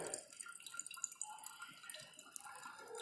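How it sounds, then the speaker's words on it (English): Oxalic acid solution pours from a glass beaker into a volumetric flask in a chemistry lab, a faint, steady trickle with small drips, close and quiet, with no talk over it. "I am transferring this content of beaker"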